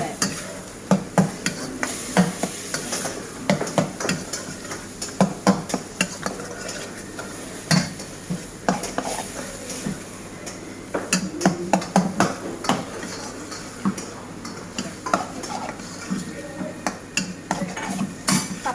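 Tapioca and beef curry being mixed together in a pan for Kottayam-style kappa biryani: a steady run of spoon scrapes and clanks against the metal pan, close and fairly loud, with a faint sizzle underneath.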